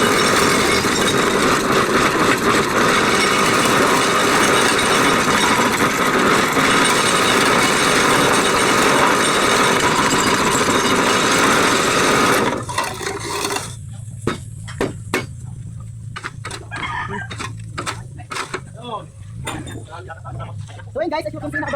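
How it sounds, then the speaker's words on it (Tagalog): A size 4 hollow block making machine runs loud and steady, a dense grinding, vibrating roar for about twelve seconds before it cuts off, leaving quieter scattered knocks and clatter of blocks being handled. "Itong quality machine namin na size 4, kung maganda rin ba yung output ng hollow block."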